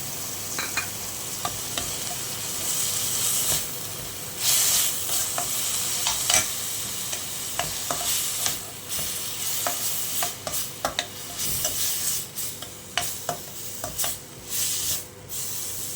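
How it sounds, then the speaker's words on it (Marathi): Onions sauté in a pan for a prawn curry, a steady sizzle broken by frequent scraping stirs and sharp clicks of a spoon against the pan, close and continuous. "आपला कांदा परततोय तो त्याच्यामध्येच आपण आता टोमॅटो घालूया"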